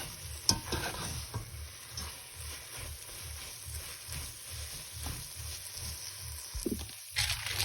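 A spoon stirs sugar into vermicelli in a hot pan for jorda semai, in regular scraping strokes over a soft sizzle, close and moderately loud with no voices.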